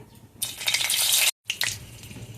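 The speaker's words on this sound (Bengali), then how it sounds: "তেল গরম হয়ে গেছে এখন শুকনো মরিচ ফোড়ন দিচ্ছি" Dried red chillies hit hot oil in a kadai for a tempering, giving a loud, close burst of spitting crackle that breaks off briefly and then resumes at a lower level.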